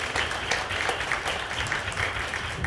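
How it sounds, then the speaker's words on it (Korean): Book concert audience at a publication celebration gives a big round of applause, dense steady clapping filling the room at moderate loudness without a break. "수고해주신 조규석 선배님께 다시 한번 큰 박수 부탁드리겠습니다."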